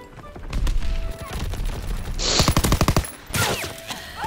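Rapid gunfire bursts from shotguns in a video game, loud repeated blasts clustered in the middle with scattered game effects around them.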